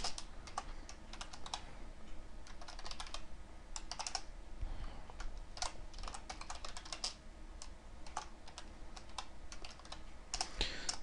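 Steady typing on a computer keyboard, soft key clicks coming in quick irregular bursts, close and fairly quiet, with no talk.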